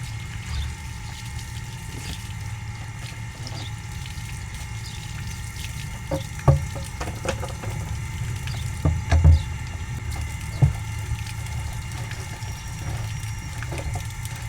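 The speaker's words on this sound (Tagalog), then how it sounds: "Tapos banlawan natin na maayos para matanggal itong chlorine." Water runs steadily while a plastic container is rinsed to remove chlorine before it holds fermented kangkong for pig feed, with a continuous splashing wash broken by occasional knocks and clatters of handling.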